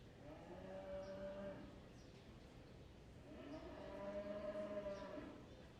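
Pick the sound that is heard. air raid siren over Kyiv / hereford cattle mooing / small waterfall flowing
hereford cattle mooing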